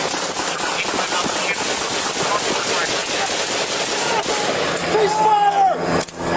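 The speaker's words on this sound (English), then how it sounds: "shot fired" Gunfire erupts during a police encounter with a robbery suspect behind businesses, a rapid burst of loud shots amid shouting officers and radio noise, close and chaotic.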